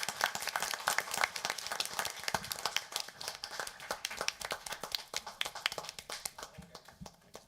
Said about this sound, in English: I'd like all of you to give you a round of applause